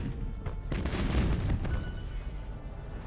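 Warship guns firing during a space battle against Ork pirates in Battlefleet Gothic Armada: a dense, rumbling barrage of overlapping booms and bursts keeps up without pause across the whole stretch.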